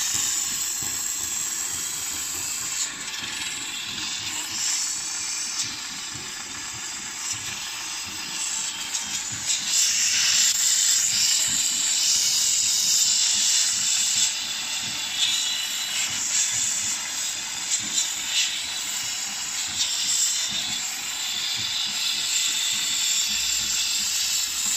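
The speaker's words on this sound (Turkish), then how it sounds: "gördüğünüz gibi buhar makinesiyle temizlerken" Steam cleaner blasting a radiator, a continuous loud, bright hiss sustained throughout with slight surges in intensity, close up and alone without speech.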